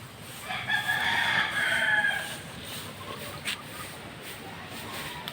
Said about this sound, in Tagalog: Ito yung kay Pare Bukyo manok ko